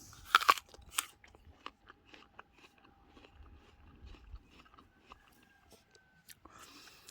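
Bites into a Gala Dark Baron apple, with a loud crisp crunch at the start followed by a series of quieter, irregular chewing crunches close to the mic and faint breathy sounds in between.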